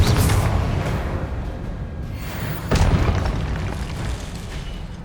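Confringo fire spell blasts in the video game Hogwarts Legacy, two heavy booming explosions with rumbling roar between them, loud and close, no talking.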